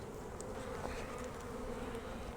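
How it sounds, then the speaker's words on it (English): Honey bees and drones humming inside an opened beehive, a dense continuous buzz with occasional louder passes of individual bees close by, no voices present. "Here's one of these drones freshly emerged right here."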